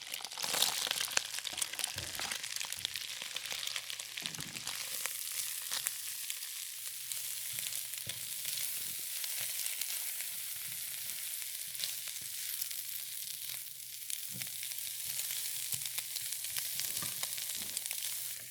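Vegetables frying in a pan for Chinese seafood curry fried rice, a steady, dense sizzle with crackles and occasional stirring clinks, continuous and close throughout.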